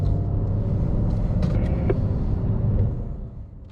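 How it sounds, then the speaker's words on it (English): Porsche 911 Carrera S of the 992 generation pulling away on a race track at a lead-follow event, a steady loud engine rumble that holds for most of the stretch, then fades slightly at the end. "Let's go ahead and have me drive the 911 Carrera S on track."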